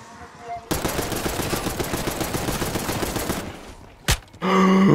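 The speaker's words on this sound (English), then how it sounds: "Wow, it sounds like they made the sounds better for the mangler." In Black Ops 6 Zombies, a mangler enemy's harsh rattling, grinding burst fills several seconds, then stops, followed by a sharp hit and a tonal game sound.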